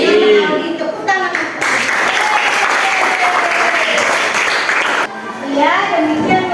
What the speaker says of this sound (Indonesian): Aldi, tepuk tangan